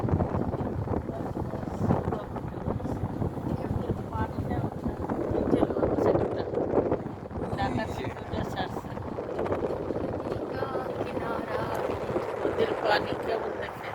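A boat travels on a river at night near Chandpur, giving a continuous low rumbling drone with wind noise throughout while people talk over it.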